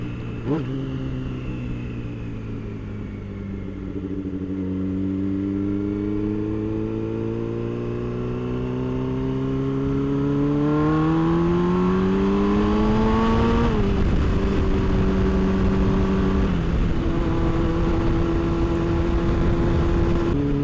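Yamaha R6 sport motorcycle engine while riding, a close, steady drone that climbs in pitch as the rider accelerates, then drops back and holds a level whine, with no talking.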